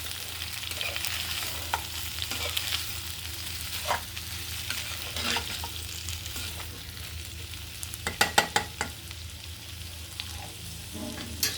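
Crushed peanuts and potatoes sauté in a pan for sabudana khichdi with a steady close sizzle, while a spatula scrapes and taps against the pan. A quick run of taps comes near the end.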